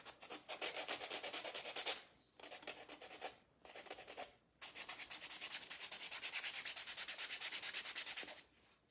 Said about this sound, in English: So I'm sanding the top part.